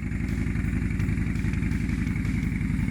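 A Yamaha Bolt motorcycle engine idles with a steady, low, throbbing rumble and fast rhythmic pulses, loud and close throughout.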